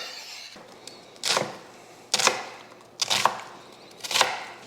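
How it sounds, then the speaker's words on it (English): Knife chopping white onion on a cutting board for a creamy chicken chili, four distinct, evenly spaced crisp chops close up with brief quiet gaps between, no talking. "All right, we got our onions chopped."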